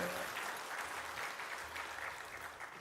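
A church congregation applauds at a Methodist revival service in Dongtan, Korea, with dense, steady clapping filling the hall throughout.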